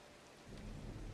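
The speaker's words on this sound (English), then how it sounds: "That rain is rude." Rain and thunder in the video game Disney Dreamlight Valley: a steady patter of rain joined by a swelling low thunder rumble that grows louder toward the end, with no talking.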